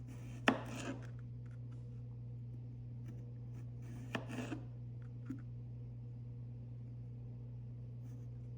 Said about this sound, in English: Both knives did great going right through the cucumber.